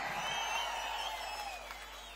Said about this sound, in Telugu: గట్టిగా చప్పట్లు కూడా చెప్పండి అవునని